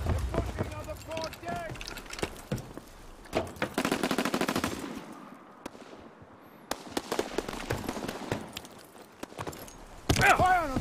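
Automatic gunfire rattles in rapid bursts in the Call of Duty WWII video game, mixed with scattered explosions and battlefield noise, while voices shout orders under the firing.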